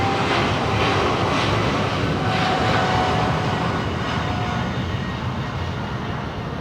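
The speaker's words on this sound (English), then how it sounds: "That's a big plane." A steady, loud engine roar with a broad rumbling wash of sound, holding constant throughout as a large plane passes overhead during planespotting.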